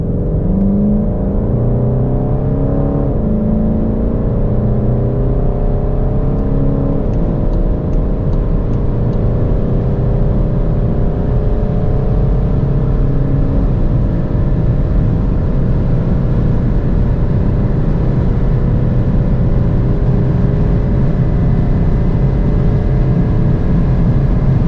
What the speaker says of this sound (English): let's now see how fast the car goes from 100 to 200